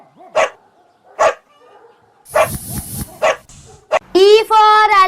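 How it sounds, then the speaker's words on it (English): A dog gives several short, sharp barks spaced apart, followed by a longer whining yelp at the end, loud and close with little else around it. "D for dog."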